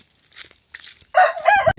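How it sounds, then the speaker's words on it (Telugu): A rooster on a small natural-breeding poultry farm in Araku crows once, loud and close, after a stretch of faint clucking and rustling from the flock. "ఇప్పుడు చూడండి, అక్కడ పుంజు ఉంది, ఇక్కడ పెట్ట ఉంది."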